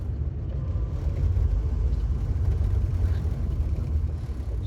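A Morris Minor car engine runs steadily with a low, continuous rumble and whir, the small car cruising along the road, with no talking.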